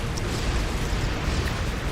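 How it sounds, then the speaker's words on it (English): Explosion in the Gun Wings danmaku shooter: a dense, loud burst of broadband noise with a heavy low rumble, sustained for about two seconds without a clear attack or decay. "where did that explosion even come from?"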